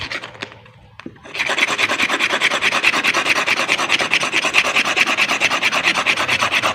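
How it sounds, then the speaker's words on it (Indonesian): Coral stone is rubbed into fine powder for making grass jelly, a loud, rapid rhythmic rasping scrape that starts after a brief quiet moment and continues steadily, close up with no talk. "cara mengambilnya adalah dengan kita gosok supaya lembut seperti debu. Ini kita gosok."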